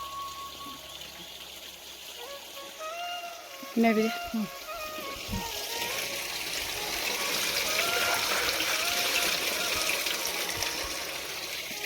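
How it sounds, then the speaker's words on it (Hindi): Water runs from a tank at a drinking spot, trickling steadily and swelling into a fuller, louder flow. A brief voice speaks partway through. "तो ये यहाँ पे टंकी है और ये पी रहे हैं पानी।"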